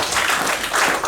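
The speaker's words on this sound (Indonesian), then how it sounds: "Tepuk tangan bagi Allah kita" Congregation at a GBI church worship service clapping together, a dense continuous wash of hand claps lasting about a second, fairly loud and close with no voices on top.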